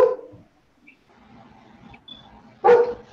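Dog barking in a farm kitchen while leeks boil, a short bark at the start and a louder, closer bark near the end, separated by quiet kitchen sounds.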